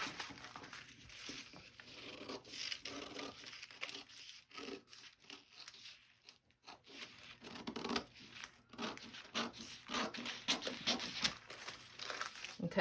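Thin paper sewing pattern for a dress being cut with scissors, crinkly snips and paper rustling in bursts with a short pause midway, close and fairly quiet.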